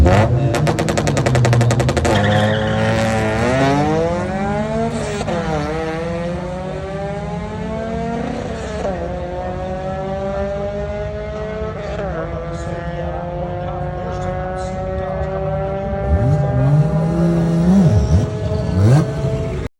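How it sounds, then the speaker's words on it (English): Honda Civic with a K24 engine on a drag strip run, the four-cylinder revving hard and climbing through gears with sweeping pitch rises and shift breaks, loud and continuous for about twenty seconds. "So this was, I believe, my first run of the day with the valve closed"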